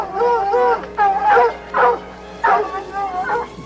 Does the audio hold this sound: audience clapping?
no